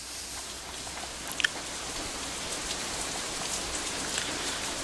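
Rain falls in the Katawa Shoujo video game, a soft steady patter of drops on surfaces with a couple of brief sharper taps, faint and continuous with no talking.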